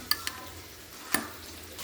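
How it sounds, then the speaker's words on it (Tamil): Spoon stirring cooked lentils in a pot, a few sharp clinks against the metal over a soft, steady sizzling hiss. "நல்லா கிளறி விட்டுக்கலாம்."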